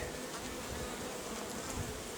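A late-summer honeybee swarm working autumn buckwheat at an apiary gives a dense, continuous buzz of many bees, steady and close throughout.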